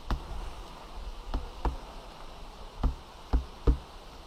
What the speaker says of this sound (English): as you can see, there's a lot of bees